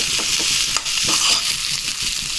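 Aloo masala with coriander, green chillies and spices being stirred and fried in a pan for a Mysore masala dosa, a loud continuous sizzle broken by scraping spoon strokes.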